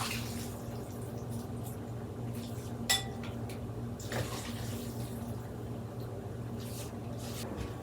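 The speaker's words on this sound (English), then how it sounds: "now we're gonna get some of our delicious broth that's been simmering all day" Chicken pho broth, simmered all day, is ladled into a bowl: quiet liquid pouring and a couple of short splashes and clinks against a low steady background hum, with no talk.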